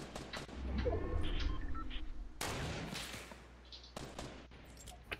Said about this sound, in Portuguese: ela fica lançando aquela rajada dela